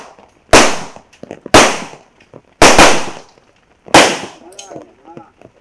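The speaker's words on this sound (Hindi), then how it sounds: "राहुल सर हम लोग धमाके के लिए तैयार ह" Four loud, sharp blasts from an explosion effect on a TV serial set go off one after another, each with a quick decay, while voices murmur faintly in the gaps between them.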